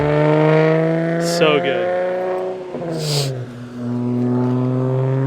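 A BMW E36 M3 fitted with a Bimmerworld race exhaust revs close by, its rich harmonic engine note climbing and falling through a couple of throttle blips, with a short comment spoken over it.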